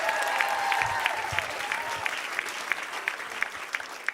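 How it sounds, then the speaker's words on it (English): Stand-up comedy club audience clapping for a comedian, a dense burst of applause that thins out into scattered individual claps, with faint voices in the room. "Thank you for clapping for me."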